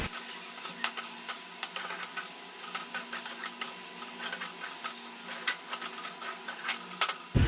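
Chicken and spice masala with a little water sizzling softly in a pan over a low flame, a steady gentle frying hiss broken by light ticks and scrapes of stirring, close by.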